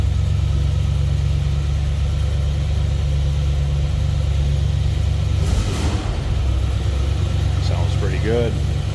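Rebuilt 365 V8 engine of a 1957 Cadillac Eldorado Biarritz convertible running at a steady, deep idle close by, a constant low rumble with a brief rise partway through and a voice speaking over it near the end.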